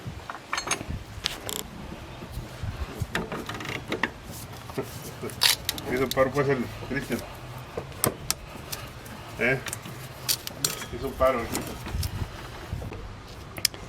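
Wrenches, a 14mm on the pulley braced by a 15mm, work loose the power steering pump pulley on a Honda Accord, giving scattered close metallic clicks, clanks and ratcheting taps over a steady hum.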